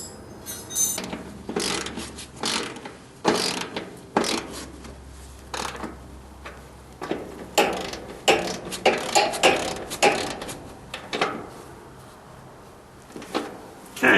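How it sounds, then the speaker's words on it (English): Bolts are turned and snugged by hand on a New Holland 630 baler during an overhaul, giving scattered metallic clicks, ratcheting and clanks in irregular bursts, close by and fairly quiet, with no talking. "So let me tighten up these bolts by hand here."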